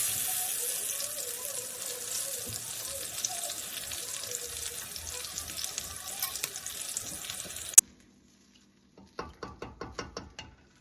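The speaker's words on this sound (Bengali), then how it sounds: "এখন বেগুনগুলোকেও ভাজতে দিয়ে দিব।" Spiced eggplant slices fry in a pan, a dense close sizzle with occasional stirring bumps for several seconds, then it stops abruptly and a series of separate clinks follows.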